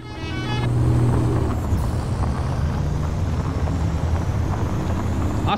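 A truck in Euro Truck Simulator 2 rolls past, its engine drone and whooshing air blending into continuous road and wind noise from inside a moving cab, with a brief horn-like tone at the start.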